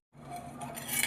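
A utensil scrapes and clinks against a pan while ingredients roast and are stirred, a brief close rattle with faint sizzle, no talk.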